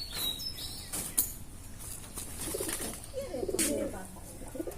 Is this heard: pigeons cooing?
yes